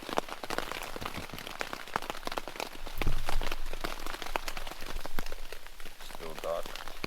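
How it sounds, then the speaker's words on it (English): Rain patters steadily at a wild campsite in the New Forest before dawn, with dense scattered drops tapping close by and a voice murmuring now and then. "It is raining"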